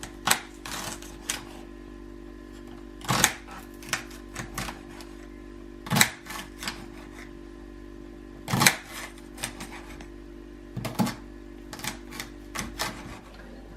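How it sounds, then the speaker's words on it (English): Sharp, dry knife strikes chop through celery on a cutting board, landing in irregular bursts of close, crisp thuds with brief pauses between groups, alone without talk. "now we shall move on to cutting this here celery"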